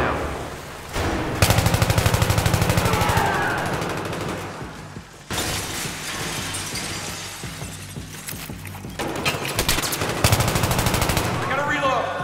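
Heavy automatic gunfire in the video game Battlefield 3 rattles in long, loud bursts with sharp shattering hits and brief pauses between volleys, with some voices mixed underneath.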